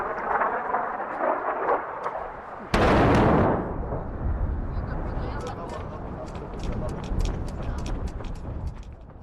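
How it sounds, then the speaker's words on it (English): A massive airstrike explosion near a hospital in Nabatieh, a sudden loud blast that rolls into a long rumbling tail, heard over ongoing outdoor noise and voices. "2 more massive explosions"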